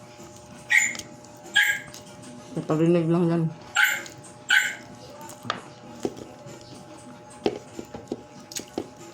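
A dog barks several times in short, sharp bursts with a whimpering yelp in between, followed by quieter shuffling noises and a brief spoken remark.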